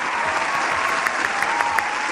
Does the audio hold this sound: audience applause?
yes